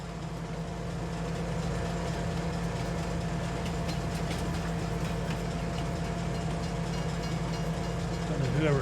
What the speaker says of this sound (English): Whoever thought they would let a farmer drive a train.